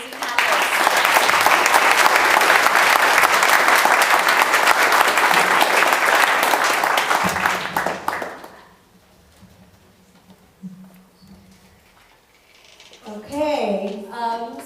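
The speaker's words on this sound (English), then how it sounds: "Let's give a round of applause to our amazing panelists." Loud, dense audience applause for the panelists at a live AR and computer vision investor panel, sustained for about eight seconds before fading out; a voice speaks near the end.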